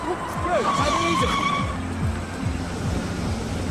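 A car skids briefly with tire squeal while its driver fumbles the clutch on a Christmas Eve night, the engine lurching in repeated jerky pulses under steady background noise.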